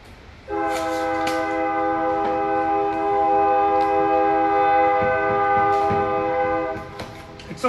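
A train sounds a long, steady horn blast for several seconds, loud and fairly close, then it cuts off with some rumbling noise.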